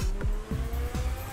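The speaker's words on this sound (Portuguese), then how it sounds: "Vamos lá pra fora, pra gente dar uma acelerada no carro." A Vapid FMJ sports car in GTA 5 Online revs and accelerates, engine pitch sweeping upward through repeated gear shifts in a steady, loud rising whine with no talking.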